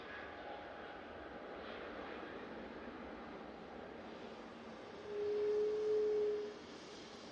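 A Jet2 Airbus A321neo departs Manchester Airport for Mahon, a distant, faint, broad jet roar holding steady, with a brief thin tone rising over it near the end.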